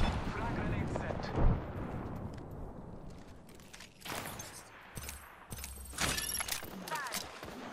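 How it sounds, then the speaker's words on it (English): Frag grenade blast and scattered gunfire in a video game firefight, heavy booms and crackling bursts layered under game voice callouts, with the loudest thump early on. "Frag grenade set."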